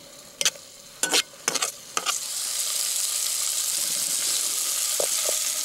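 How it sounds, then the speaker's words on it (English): Sausage frying in a pan over a rocket stove, a few clanks and scrapes of stirring at first, then a steady loud sizzle that fills the rest, with two small knocks near the end. "the sausage is coming along nicely. Cook it a little bit longer until it's cooked all the way through"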